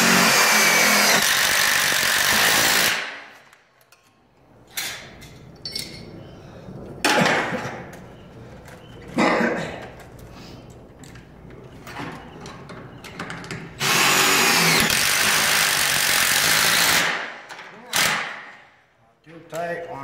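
A power drill drives screws into garage door trim during installation, in several loud whirring bursts of a few seconds each, broken by quieter gaps with someone talking.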